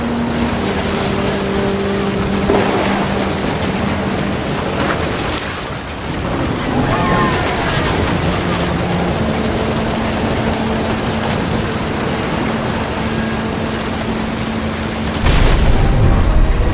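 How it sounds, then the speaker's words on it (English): Thunder in the video game What Remains of Edith Finch rolls as a loud, sustained low rumble with booming swells beneath steady rain and wind, alongside low tonal hums, closing with a heavier surge of noise. "The thunder sounded much too close and full of angry power."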